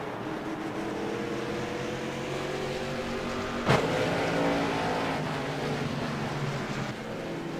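Stock race cars roar around an oval track in a CRA 150-lap special event, a dense continuous engine drone with a brief sharp bang partway through, heard from the grandstand distance.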